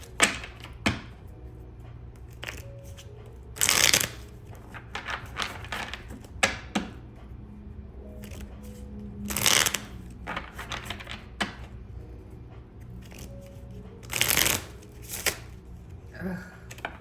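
Tarot cards shuffled by hand in a quiet room, giving several brief papery riffling bursts with soft handling noises and taps between them.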